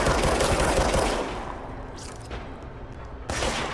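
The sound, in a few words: gunfire in the video game Control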